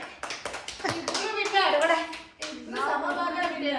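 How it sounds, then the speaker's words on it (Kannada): Hands clapping in quick bursts close by, mixed with lively voices talking and calling out over the applause during a chips challenge vlog. "ಬರ್ಲ ಚಪ್ಪಾಳೆ."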